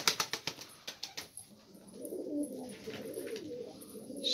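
Mixed posta and takla pigeons, with cooing and soft wing flaps at first followed by a steady low murmur of coos, close by and with no talking.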